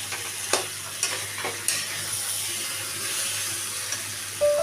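Jackfruit pieces for a jackfruit curry fry in a pan with a continuous close sizzle, and a few sharp clinks of stirring break through the steady hiss.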